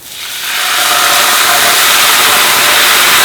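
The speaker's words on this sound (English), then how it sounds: "It's going to make a good loud sizzle, I'm sure." Wine hits a hot pan of leek and bacon risotto in a loud, steady hiss of sizzling, rising quickly at the start and then holding strong without a break.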